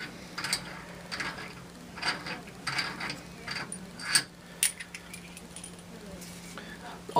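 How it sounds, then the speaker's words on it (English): An automatic cup sealing machine is being partly unscrewed up close, giving a scatter of metallic clinks, ratchety clicks and light rattles in short bursts against a low steady hum. "So I'm going to go ahead and unscrew this."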